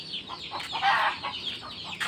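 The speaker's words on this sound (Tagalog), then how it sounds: "Ayun yung isang manok pa." A chicken clucks in short, irregular bursts at close range beside a farm hut, with a few louder squawky notes in the middle.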